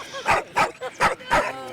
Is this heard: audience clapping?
no